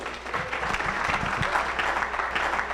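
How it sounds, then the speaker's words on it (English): An audience at a digital marketing event applauds, a steady patter of clapping from a roomful of people lasting a few seconds. "give him a round of applause"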